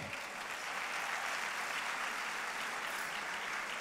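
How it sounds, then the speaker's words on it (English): Steady, dense applause from a conference audience fills the whole stretch without break, close and even in level, with no talking over it. "I would like a round of applause for Arvind Eye Care"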